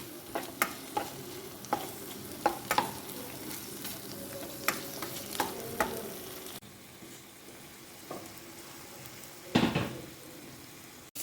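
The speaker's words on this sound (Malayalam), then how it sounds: "ഒരു ഹാഫ് കുക്ക് ആവുന്നത് വരെ നമുക്കിങ്ങനെ ഒന്ന് ഇളക്കി കൊടുക്കാം" Prawns frying in a pan with curry leaves, stirred now and then, give sharp scraping clacks at irregular intervals over a soft steady sizzle, a louder burst of stirring near the end, close and without voices.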